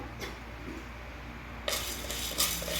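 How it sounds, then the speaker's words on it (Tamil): Mixed lentils are dry-roasted in an empty pan, quiet at first, then a sudden burst of scraping, rustling stirring as the dry grains are moved around, with light clinks. "இப்போ இதையும் வறுத்தலாம் வெறும் கா சட்டியிலே தான் வறுக்கணும்"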